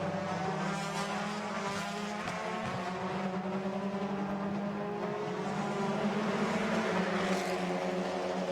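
Peugeot 308 TCR touring race cars run on the Barcelona circuit during qualifying, a continuous layered engine drone with shifting pitch at moderate distance.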